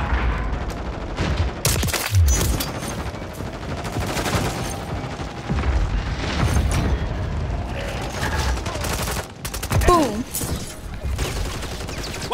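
Dense gunfire and bursts of automatic weapons in a PlayStation military shooter game, continuous rapid shots with booms and mechanical clatter, while game characters shout radio-style callouts.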